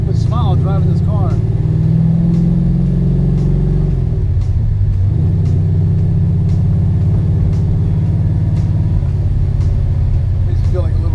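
A Chevy Chevelle's engine rumbles deep and steady while the car is driven, loud and close the whole time, with a brief voice near the start.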